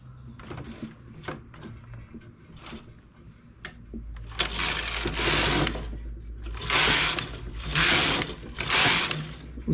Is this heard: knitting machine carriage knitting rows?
yes